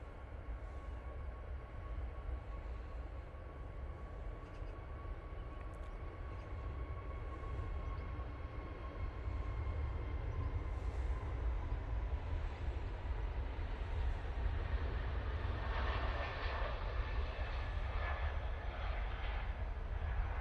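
A TUI Boeing 787-9 Dreamliner from Cancun lands at Manchester Airport, heard as a steady broad engine roar that holds for the whole stretch and swells slightly louder toward the end, with no talk.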